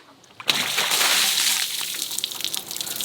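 Water pours and splashes steadily over a broken Microsoft Surface phone, starting abruptly after a quiet moment and gushing loud and close before trailing off into irregular spatters and drips.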